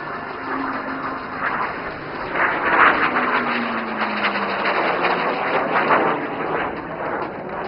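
An IJT jet trainer flies its display over the runway at the Aero India 2025 air show in Yelahanka, Bangalore, making a loud, steady jet roar that swells and falls slightly as it turns, with no one talking.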